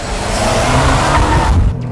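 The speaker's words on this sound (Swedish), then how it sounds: "Gött motorljud också. Rotta turbon hörs så pass mycket." Turbocharged Subaru WRX STI or Mitsubishi Evo X rally car engine, a loud close roar with turbo whine and a brief tire noise as it revs through two seconds.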